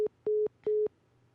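A phone call drops and gives a failed-call tone: three short, evenly spaced pairs of clean beeps, clear and close, then silence.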